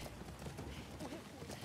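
Hooves clip-clop in a galloping horse sequence from The Last of Us Part II, a faint, continuous rhythmic pounding under someone talking over the game.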